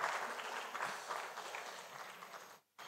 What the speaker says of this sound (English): we can clap better